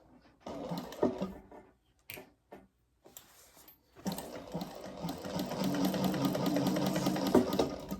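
A sewing machine runs basting stitches around the gusset of a laptop bag, starting with a few short stop-and-go bursts before settling into a steady, close, continuous whirring run of stitching.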